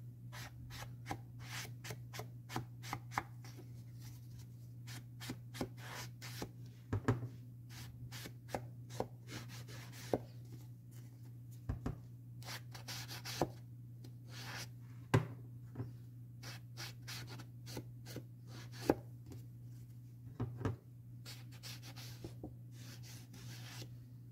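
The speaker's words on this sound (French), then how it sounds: "je viens prendre avec mon doigt éponge et faire le contour de ma carte" A finger sponge dabs brown Stampin' Up ink around the edge of a card, giving soft, faint repeated taps and rubs in an irregular rhythm over a steady low hum, close up with no talking.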